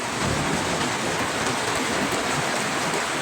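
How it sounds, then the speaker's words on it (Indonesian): Heavy rain pours down during a storm with strong wind, a dense, loud, continuous hiss of falling water with no voices. "Hujan turun sangat deras hingga jarak pandang terbatas, sementara angin terus menderu kencang."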